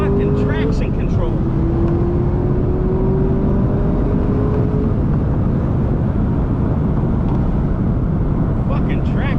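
A Chevrolet Camaro ZL1 with a manual gearbox and traction control on, engine held loud and close at steady high revs during a launch attempt, with a driver speaking over the roar at the start.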